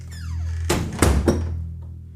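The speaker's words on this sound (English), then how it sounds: "letting the heavy front door of her house close behind her" A heavy front door of a house swings shut, landing in a couple of loud, close, deep thuds with a short rattle, and no voices present.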